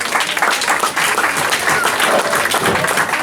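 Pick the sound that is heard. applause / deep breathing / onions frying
applause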